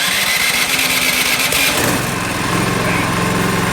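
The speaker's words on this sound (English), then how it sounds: "Got everything turned on. First electric start here." A 24-inch two-stage snow blower engine is cranked by its electric starter, a loud steady churning that catches and settles into a lower, rumbling run partway through, continuous and close.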